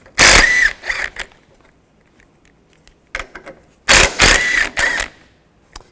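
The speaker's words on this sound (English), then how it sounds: "Using a 13mm socket, we want to take these nuts off up top." A ratchet with a 13mm socket loosens the upper strut nuts on a Chevy Cobalt. Loud bursts of clicking and turning come in short spurts separated by quiet pauses.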